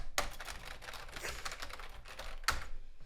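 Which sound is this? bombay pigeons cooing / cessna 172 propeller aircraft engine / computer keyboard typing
computer keyboard typing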